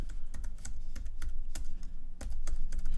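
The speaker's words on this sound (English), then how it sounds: "and we'll type in our old password" Rapid, steady typing on a computer keyboard while entering a password, a close run of crisp key clicks with a few louder strokes, no voices.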